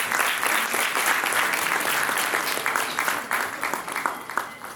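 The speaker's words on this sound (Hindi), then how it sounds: "जोरदार ताली बजाइए।" Loud audience applause fills an auditorium at a cultural festival programme, a thick roar of clapping that holds strong and then thins toward the end into separate, distinct claps.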